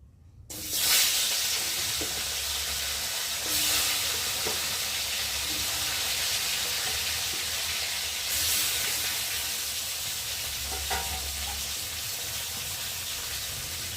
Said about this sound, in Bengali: এখন আমি একে একে মাছগুলোকে ফার্স্টে ভেজে নিই